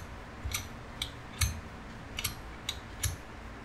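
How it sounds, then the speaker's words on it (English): A hard disk with a head crash gives sharp, dry clicks, about seven over a few seconds at an uneven, repeating pace, close and fairly quiet with no talking. "when you have a head crash, you might hear, you know, a continuous clicking sound"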